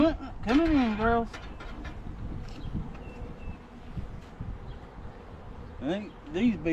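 A steady honeybee buzz hums in the background around a hive while close voices speak over it in short bursts.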